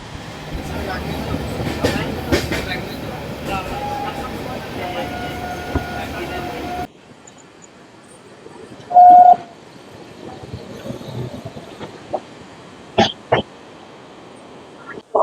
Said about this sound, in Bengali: 22302 নিউ জলপাইগুড়ি থেকে হাওড়া বন্দে ভারত এক্সপ্রেস, অরেঞ্জ বন্দে ভারত 16 কোচের বন্দে ভারত।